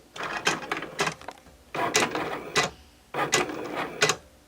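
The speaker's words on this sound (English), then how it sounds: "now when I click the button to start the Cricut up, you're going to see it actually write out the letters that I typed up with the pen" A Cricut cutting machine drawing letters with a pen, its carriage whirring and clicking in several short mechanical bursts separated by brief pauses, close and moderately loud.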